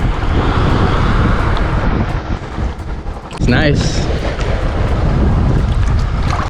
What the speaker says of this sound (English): Very windy, so I do think a storm's coming.